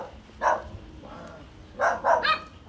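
A dog barking outdoors along a road in Korea, a couple of sharp barks followed by a quick burst of several more, moderately near and heard alone.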